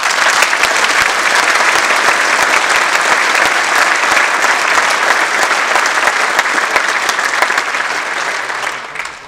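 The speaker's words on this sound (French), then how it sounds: "je voudrais que globalement on les applaudisse très fort" A large audience applauds loudly and continuously for soldiers at a New Year's address in the Anthéa theatre in Antibes, a dense, steady roar of clapping that tapers off at the very end.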